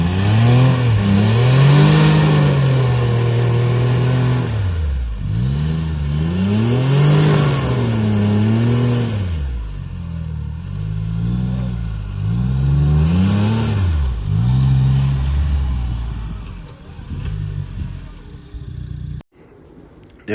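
A CFMOTO U10 Pro UTV engine revs up and down in repeated surges, about five loud swells of rising and falling pitch, with revs not settling fully back to idle, close and alone before cutting off abruptly at the end.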